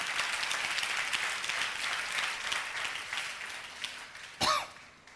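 A church congregation claps hands together in a steady, continuous patter at moderate distance, with a single sharp cough near the end.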